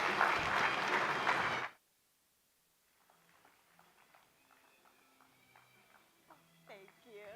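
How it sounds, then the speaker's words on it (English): An audience at a talk on supplements applauds with a loud, dense burst that lasts under two seconds and then cuts off abruptly. Faint voices and soft speech follow in the quiet room. "let's give a big round of applause for Jessica Rubino and Jeffrey Bland."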